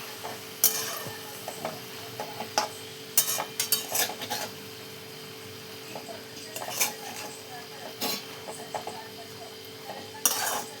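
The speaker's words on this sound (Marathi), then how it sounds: "बघा सगळी भाजी मिक्स करून घेतली आपण" Spoon stirring a fenugreek leaf vegetable dish in a metal pan, giving scattered scraping and clinking strokes at an uneven rhythm, close and moderately loud over a faint steady background hum.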